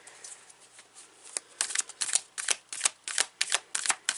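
Tarot cards are shuffled close up, a soft riffling that grows into quick, rhythmic bursts of crisp snapping and flicking.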